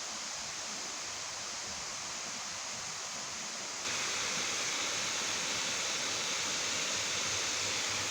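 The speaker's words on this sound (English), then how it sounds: "And there are the Issaqueena Falls." Issaqueena Falls, a deep, steep waterfall, pours in a steady broadband roar that swells louder partway through, with no voices over it.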